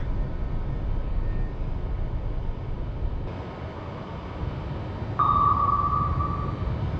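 A submarine torpedo launch in the naval video game Cold Waters: a steady low rumble of ocean and hull noise, then a sudden louder high-pitched whine that starts abruptly and holds near the end, with no talk.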